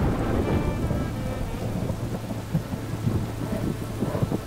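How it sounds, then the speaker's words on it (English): Driving rain pours steadily on rocky mountain slopes while deep rumbles of thunder roll underneath, a dense, loud, continuous storm wash with no voices. "Driving rain makes it even more dangerous."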